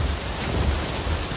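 Heavy downpour pours down in a dense, continuous wash, with deep low rumbling of thunder rolling beneath it throughout the brief stretch.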